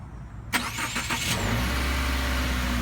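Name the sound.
2018 Subaru Outback car starting up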